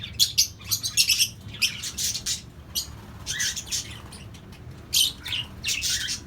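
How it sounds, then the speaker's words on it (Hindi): An albino red-eyed pet bird in a cage chirps and squawks in repeated bright bursts, some rapid and clustered, with short pauses between them over a low, steady background hum. "मिट्टू को पिंजरे में रहना बिल्कुल भी पसंद नहीं है"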